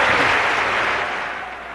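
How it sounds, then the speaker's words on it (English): Loud, dense applause and cheering from a large crowd answering a speech by Polish leader Lech Wałęsa, a continuous roar that tapers off slightly toward the end. "Interrupted 25 times by cheers and applause"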